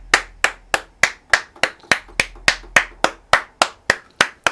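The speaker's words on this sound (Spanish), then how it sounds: "Aplaudo a mí mismo." One person claps their hands alone in a room, a steady run of about fifteen sharp, loud, close claps at an even brisk pace with short ringing decays.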